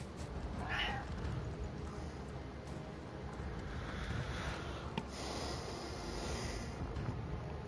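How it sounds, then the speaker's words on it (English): A pet cat on a bed gives a single short meow early on, faint and close, followed by quiet background hiss with no talking. "I got a cat that just jumped up on the bed with me and is looking at me."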